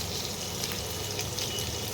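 Paneer pieces fry in a pan in a home kitchen while making masala paneer, giving a steady, dense sizzle that runs throughout at close range with no talking.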